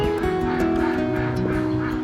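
A flock of ducks quacks and honks without a break, many overlapping calls forming a loud, dense, continuous clamour close by.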